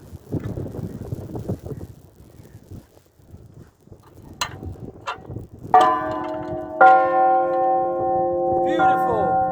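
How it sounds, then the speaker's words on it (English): A tidal bell on a beach at Mablethorpe rings out several clear, sustained tones near the end, lingering and overlapping, after scattered knocks and light wind noise outdoors. "We're gonna try and make it sound, the bell, because I think it's good luck."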